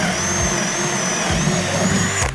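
A cordless drill with a 25/64 brad point bit whines steadily at high pitch as it bores through wood, the motor holding a constant buzzing tone throughout.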